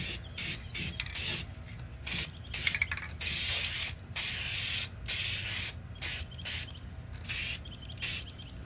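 Aerosol spray paint applied in a thicker coat to a spare tire rim with the tire still mounted, as long, steady hissing passes broken by brief gaps, close and continuous.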